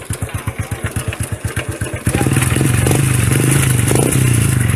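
A Honda Wave 110i motorcycle engine idles with a lumpy, pulsing beat, then is held at high revs in a steady, loud roar up close.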